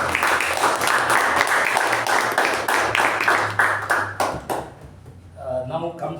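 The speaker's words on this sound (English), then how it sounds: "Let's give a big round of applause for the great job." Steady clapping from a group of people fills most of the clip, a strong voice hum running beneath, then the applause fades and scattered voices follow.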